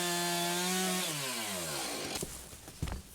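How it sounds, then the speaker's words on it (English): A chainsaw revs up and cuts into old barn wood outdoors, a loud steady engine whine dropping in pitch as the chain bites, then rough, uneven grinding bursts of sawing toward the end, no talk. "I'm about to fire up the chainsaw."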